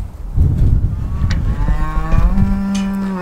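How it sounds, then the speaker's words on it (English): Cows in a pen moo loudly and close by, with several overlapping drawn-out calls over a low rumbling background, and no talk. "These cows are thanking me right now. You heard them over here."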